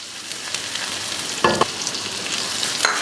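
Chopped ginger and diagonally cut green chilli fry in a pan for Kolkata-style chilli chicken, a continuous soft sizzle broken by a couple of sharper clinks from stirring.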